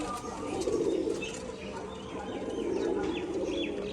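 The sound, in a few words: Rajshahi pigeons cooing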